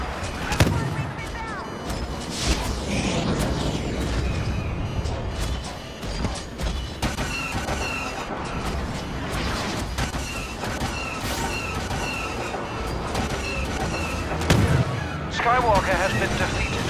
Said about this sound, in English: Rebel bombers are making their attack run.